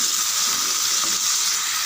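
Tomatoes, garlic and ginger sauté in a hot pan, giving a close, steady sizzling hiss with soft stirring underneath and nobody speaking.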